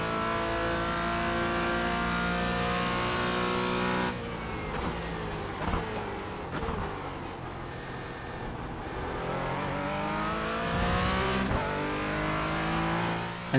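Porsche Cayman GT4 race car in iRacing at Sebring, its engine droning loud and steady throughout with rising and falling revs as it shifts through gears, plus a brief tire squeal.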